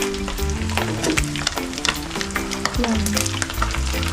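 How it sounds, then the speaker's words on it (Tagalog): Fish sizzling steadily as it fries in a pan, a close, continuous crackle with stirring clatter and a brief word spoken over it. "Ito yung isda na prito na."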